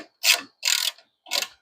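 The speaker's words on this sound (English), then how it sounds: "we're gonna be tightening this bolt right here and that bolt right there to lock everything in place" A ratchet tightens a bolt on the GM supercharger pulley of a JRSC-supercharged Honda Prelude, giving three short, crisp ratcheting bursts close up, separated by brief silences, with no talking.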